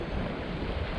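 Waves washing against the rocky shore of Lake Winnipeg after a storm, a brief, steady rush of surf with wind noise.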